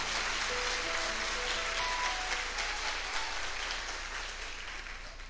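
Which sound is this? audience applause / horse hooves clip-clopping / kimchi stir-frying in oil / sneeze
audience applause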